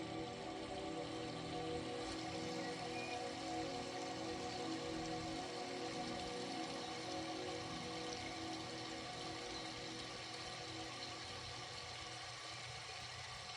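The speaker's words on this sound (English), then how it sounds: "we have been brought to a shallow part of the river that's flowing" Shallow river flowing among tall trees, a steady, even wash of running water that holds at a constant level throughout, with no talk over it.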